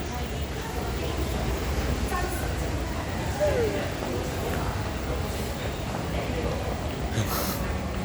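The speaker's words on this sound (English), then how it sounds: "Train." A train rumbles steadily at close range, a low continuous roar with a faint squeal partway through. A voice is heard under the noise.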